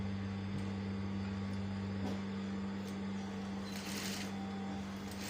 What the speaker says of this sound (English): they're entering the machine all together at the same time. So I'm going to make the first stitch here once.